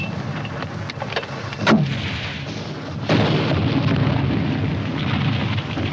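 Gunfire in a 1951 war film battle scene, sharp cracking shots at irregular intervals with a heavy boom near the middle over a dense rumbling din.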